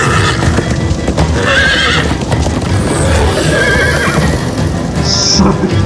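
A horse in the video game Minecraft: Story Mode neighs several times over steady clip-clopping hooves and a loud, busy game soundtrack.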